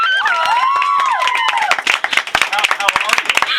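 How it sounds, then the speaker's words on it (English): A small radio studio audience claps to welcome a guest, sharp individual hand claps following a voice that sings and talks, the claps close and uneven, with chatter mixed in. "Let's applaud."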